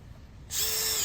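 A Makita drill driver starts driving a 3.5-inch screw into wood, its motor whirring up suddenly and then running loud and close at a steady pitch.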